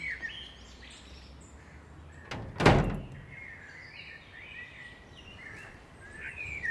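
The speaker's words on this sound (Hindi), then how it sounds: "खुला है दरवाजा" A door opens as a visitor enters a home in a Pakistani TV drama, one loud, close thunk standing out against quiet room tone with faint birds chirping in the background.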